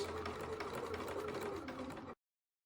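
A sewing machine stitches the fabric of a sou'wester sun hat, running in a steady, continuous mechanical whir close by for about two seconds before stopping abruptly into silence.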